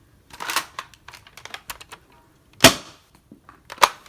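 Foam dart blaster from an OMW Hybrid Retaliator kit firing waffle darts that need two shots to clear the barrel: two sharp, loud pops about a second apart, after a stretch of small clicks and handling noises.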